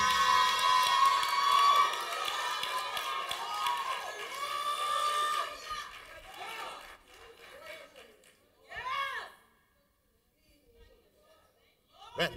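Church congregation shouting and cheering in a loud burst during a sermon, a dense roar of many voices that fades into scattered calls and a brief renewed swell near the end.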